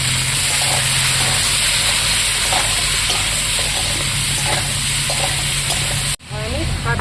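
Carrot, radish and potato, seasoned with salt and turmeric, sizzle and hiss loudly as they are stir-fried in a pan, with steady stirring scrapes throughout and a brief dip in the sound near the end.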